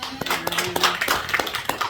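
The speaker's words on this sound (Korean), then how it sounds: "박수로 환영하겠습니다." A church congregation claps to welcome a speaker, giving a short burst of irregular, sharp hand claps with a faint tonal hum underneath.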